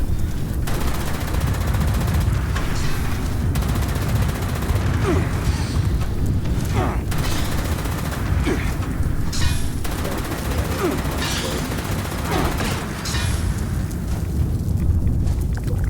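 A Gatling laser in Fallout 4 fires in a continuous, dense rattling stream that stays loud and unbroken throughout, with faint voices mixed underneath.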